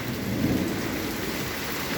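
Steady heavy rain hisses on surfaces outdoors while low thunder rumbles underneath, a constant, dense wash of sound with no voices.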